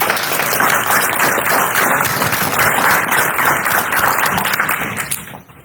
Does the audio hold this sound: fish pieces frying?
no